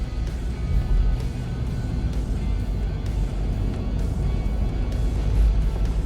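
A 2021 Mercedes-Benz GLE 300d diesel takes a small turn, heard from inside the cabin as a steady low engine and road rumble with soft tire noise, no speech.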